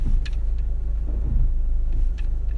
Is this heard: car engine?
yes